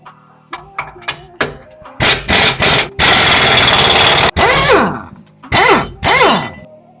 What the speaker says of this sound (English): Using a 19 millimeter socket, remove the 4 U-bolt.